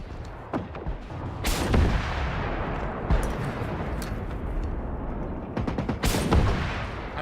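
A rocket launcher in the Generation Zero video game fires repeatedly, with several heavy, booming blasts spaced a few seconds apart over a constant loud rumbling background.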